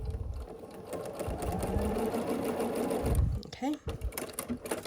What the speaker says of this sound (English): we're just going to stitch across